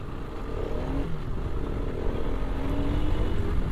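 A Pulsar RS 200 motorcycle with a modified exhaust rides along, its engine rumbling loudly and close with slight revving and wind noise, no voices.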